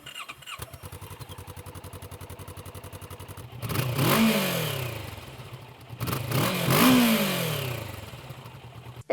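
A 2025 Kawasaki Vulcan S ABS cruiser motorcycle idles with a steady, rapid thump, then revs twice, each blip rising sharply and falling back to idle, loud and close with no talking.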